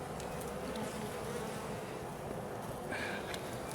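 Honey bees swarming around an open hive frame, a dense continuous drone of buzzing wings, loud and close, with individual bees whining past now and then.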